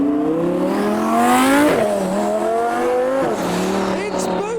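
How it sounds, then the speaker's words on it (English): A green Lamborghini Huracan leaving a night car show revs loudly and accelerates away, engine pitch climbing and dropping through gear changes, with crowd noise faint beneath. "Next to spark our excitement is the green Lamborghini Huracan with many eggings on"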